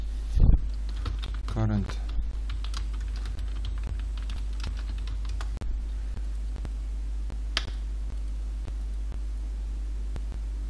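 Someone types on a computer keyboard in a quiet room with a low hum, producing scattered soft key clicks, plus a few louder taps and a brief spoken word near the start.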